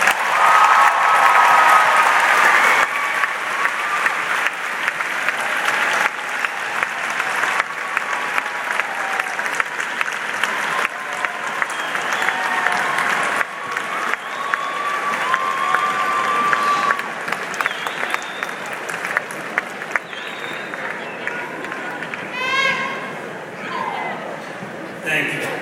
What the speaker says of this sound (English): let me ask all the students to show your appreciation by giving your parents a big round of applause